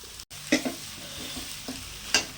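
Onions sauté in oil in a pan for pasta, with a soft, continuous sizzle. A spoon scrapes and stirs with a few distinct knocks, and no one speaks.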